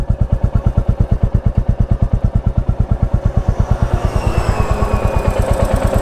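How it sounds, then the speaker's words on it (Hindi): Royal Enfield Bullet 350 single-cylinder engine idling warm, a loud, close, steady thump-thump-thump pulse at an even rhythm, with a slight rise in revs toward the end. "ये इंजन का साउंड है, कोई भी टैपेट की आवाज़ नहीं है।"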